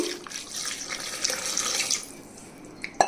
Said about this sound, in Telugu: ఇప్పుడు ఒక రెండు గ్లాసులు నీళ్ళు పోయాలండి